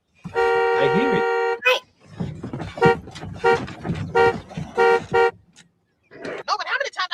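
A sustained car horn blares, then several short honks sound in a loose rhythm, with people talking between and after them.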